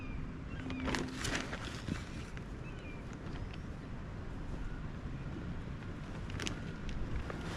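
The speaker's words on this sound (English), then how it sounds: "that wind is blowing in some cold" Wind blows steadily across an outdoor vegetable garden during tomato planting, a constant broadband rush with a few faint bumps and no clear talk.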